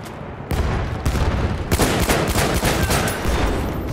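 Rapid bursts of hip-fired gunfire from a weapon in Battlefield 1 on the Ballroom Blitz map, loud and close, firing in irregular volleys over about three and a half seconds with no talk.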